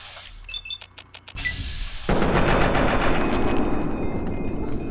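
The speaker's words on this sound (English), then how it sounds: "I wish it would shoot bursts so you can see like... what exactly is going on." An automatic gun firing in Fallout 3: rapid, closely spaced shots lead into a loud, sustained burst of fire that carries on to the end.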